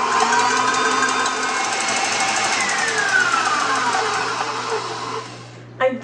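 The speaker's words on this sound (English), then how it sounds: "put the egg white in here where you can see it. And then beat it until stiff peaks form." An electric mixer beats egg white toward stiff peaks with a steady, close motor whir that holds for several seconds before cutting off near the end.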